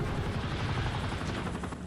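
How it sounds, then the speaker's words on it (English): A helicopter in the video game Modern Warfare 3, close and loud with a fast rhythmic rotor thumping that runs through the whole short moment. "now we have to get him into the helicopter"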